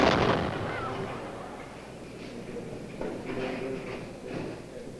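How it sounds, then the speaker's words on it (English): A homemade cannon built by engineering students fires at a university carnival event: one deep, booming blast at the start, followed by a rumbling, noisy aftermath with scattered crowd sounds. "they drag out their crazy homemade cannon to start things off with a boom"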